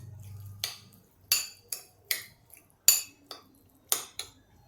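A spoon clinks sharply against a bowl in about eight distinct, evenly spaced taps and scrapes while homemade tomato seasoning is mixed into salsa, close up with quiet pauses between strikes and no voices.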